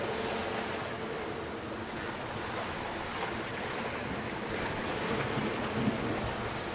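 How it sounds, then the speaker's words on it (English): Southern Ocean waves around a sailboat in the Great Australian Bight make a continuous wash and rush of water mixed with wind, moderately loud and steady without clear breaks. "Wind is very strange down here, these waves."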